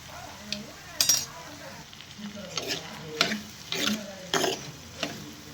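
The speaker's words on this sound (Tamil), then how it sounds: "மிளகாத்தூள் சேர்த்து நல்லா கிளறி விட்டுருவோம்" Ivy gourd curry with chili powder being stirred in a frying pan, a soft continuous sizzle punctuated by repeated spoon scrapes and light metallic clinks against the pan at an irregular pace.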